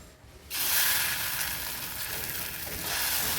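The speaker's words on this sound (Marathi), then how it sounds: "आता ह्याच्यावर आंबोळी घालूया" Amboli batter hits a hot greased pan and a loud, bright sizzle bursts in after a brief quiet start, then holds as a steady, close hiss with no voices.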